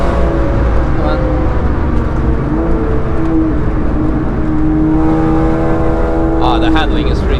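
Seat Ibiza Cupra race car fitted with a big rear wing, lapping the Nürburgring, its engine droning steadily up close with rising and falling pitch as it accelerates, while a voice talks over it.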